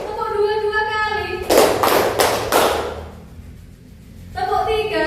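Children clapping together in a classroom clapping game, a short burst of four loud, evenly spaced group claps between stretches of a woman's speech.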